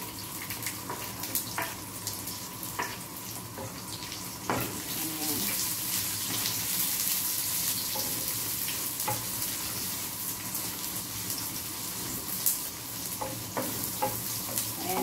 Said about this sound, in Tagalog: pag nag-brown na, isunod natin yung sibuyas